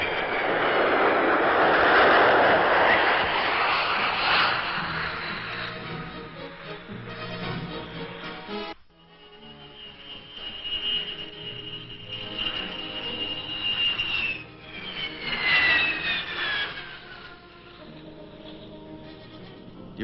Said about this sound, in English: The first combat elements to arrive in Iran were the F-100s, which landed at Vadati with routine precision